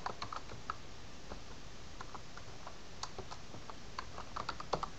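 Quiet keys clatter on a computer keyboard in irregular bursts, with light tapping scattered across a few seconds and louder clusters near the end.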